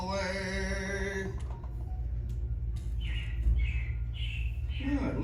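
Recorded robin chirps play as a sound effect in Disney's Carousel of Progress at Walt Disney World, a short series of bright repeated tweets that follows the fading end of a song, over a low rumble of room noise.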